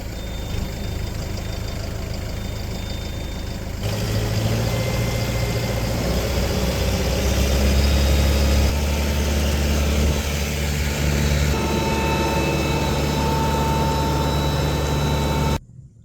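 A pump engine at a flooded cranberry farm idles steadily close by, a low continuous rumble that grows slightly louder and rougher partway through before cutting off abruptly near the end.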